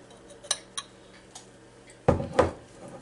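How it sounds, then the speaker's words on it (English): Spoon stirring chunky tomato, garlic and onion spaghetti sauce in a pot: a few light taps early, then two louder scraping, sloshing stirs close by, no talk. "ragu spaghetti sauce here. Just stir it up a little bit here."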